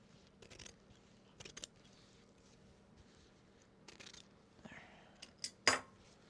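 Scissors snip through obi fabric in a few faint, quiet, irregular cuts and clicks spread across the span, with a sharper snip near the end and no talk.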